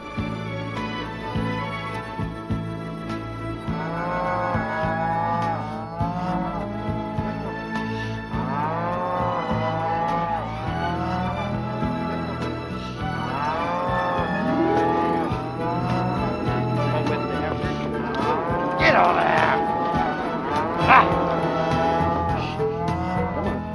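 Young calves and cattle on a working ranch moo over and over, long drawn-out calls that overlap and carry over steady outdoor noise and low rumbling.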